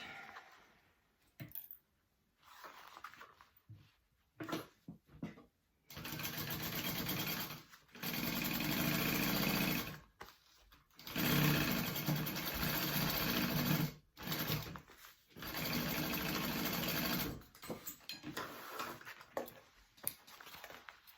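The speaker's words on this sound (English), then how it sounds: "All right, I'm gonna sew up my sides." A sewing machine stitching up the side seams of a garment runs in repeated bursts of steady whirring, some brief and others several seconds long, with short quiet pauses between them.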